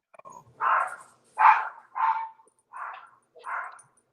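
Several dogs bark indoors in five distinct bursts spaced about half a second apart, moderately loud and close, with no talking over them.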